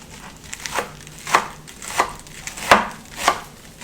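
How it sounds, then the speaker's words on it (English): Knife chopping romaine lettuce into small pieces on a board: sharp, fairly close knocks in a loose, uneven rhythm, about seven cuts, with no talking. "And then I'll chop that down to little pieces."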